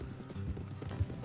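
Horse hooves clip-clop softly beneath talk in the Western video game Red Dead Redemption, a few uneven steps as riders slow and stop their horses.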